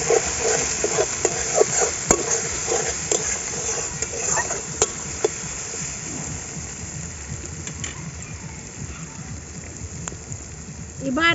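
Spices for a chicken curry stir-fry in a hot pan, giving a steady, close sizzling and crackling with scattered scraping clicks throughout.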